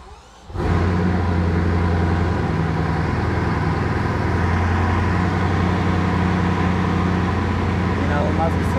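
Bugatti Bolide hypercar engine starting up with a key in Dubai, then a loud steady roar and deep rumble that holds close and constant, with a voice speaking over it.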